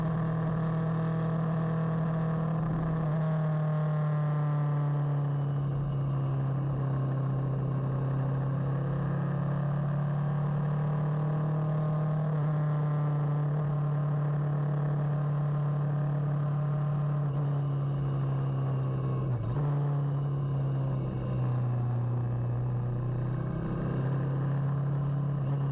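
Kawasaki Vulcan S motorcycle ridden on the road, a steady close engine drone held at an even pitch throughout, with a brief dip in revs partway through and wind rushing over it.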